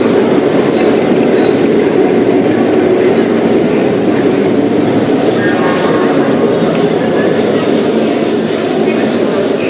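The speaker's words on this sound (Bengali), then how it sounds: "দেখুন আমাদের ট্রেন স্টেশনে এসে গেছে" An Indian passenger train pulling into Bandel station on a trip to Tarapith: a loud, steady rumble of wheels and carriages fills the whole stretch, with faint metallic squeals and crowd voices mixed underneath.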